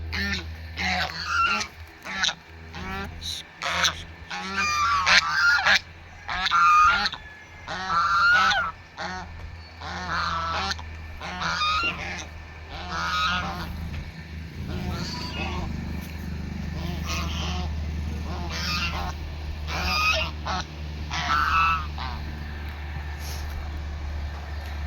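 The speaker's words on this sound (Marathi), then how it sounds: "बदकांचा कालवा" A flock of ducks keeps up a loud, rapid honking and quacking clamour near a cattle shed, many calls overlapping in bursts over a low engine rumble.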